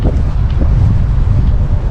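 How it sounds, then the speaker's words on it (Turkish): Wind buffeting a microphone outdoors, low rumbling gusts that fill the whole short moment, loud and close with no clear voice. "Hava rüzgarlı bak."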